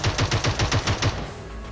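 Gunfire in a battle royale video game: a rapid, evenly spaced burst of about eight loud shots, followed by a short, fading tail.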